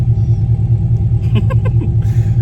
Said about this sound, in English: Fucking loudest car I've ever had.